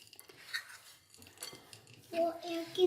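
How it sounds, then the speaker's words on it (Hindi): Spoon scraping and clinking through chocolate chip cookie dough in a bowl as chocolate is mixed in, a few short stirring scrapes growing louder near the end. "अब हम इसमें अपनी चॉकलेट शामिल करेंगे और इसको भी अच्छे से मिक्स कर लेंगे चॉकलेट डाल के इस तरह से"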